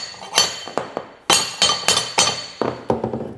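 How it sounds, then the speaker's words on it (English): Hammer tapping vinyl plank flooring together around kitchen cabinets, a run of about ten sharp, hard knocks in an uneven rhythm, close and loud with no talking. "so this is going to be loud. It's a hammer."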